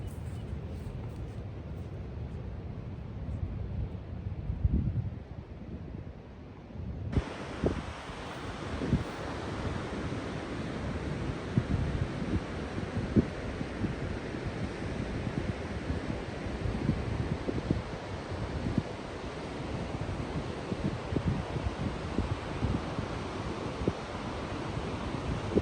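Ocean waves and gusting wind at the shore on Channel Islands, a steady broadband wash with buffeting wind noise, louder and brighter after the first few seconds.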